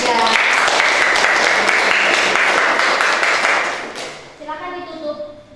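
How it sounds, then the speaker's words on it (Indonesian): Classroom applause for a student group presentation, brisk steady clapping for about four seconds that stops abruptly, followed by a voice speaking. "Ya, tepuk tangan untuk kelompok 3."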